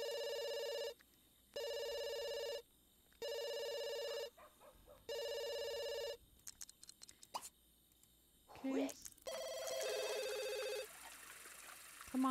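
In The Sims 2, a phone rings in four evenly spaced electronic bursts, followed by clicks, plops and short chirpy game sound effects.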